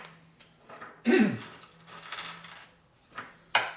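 Metal washers and nuts for motorcycle hardware clinking and rattling as they are sorted by hand, a loud jingling burst followed by lighter clicks and a final sharp clink.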